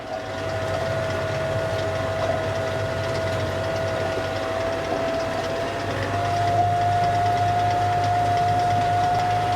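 Tractor pulling hay-making equipment in first gear across a small field, a steady low engine drone with a constant whine, heard from the cab without talk.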